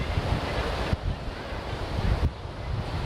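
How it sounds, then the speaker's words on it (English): Ocean waves bashing against rocks by a set of stairs, a dense, loud roar of surf and wind buffeting the microphone, continuous with heavier surges. "Trying to get up those stairs when you're getting like bashed by waves."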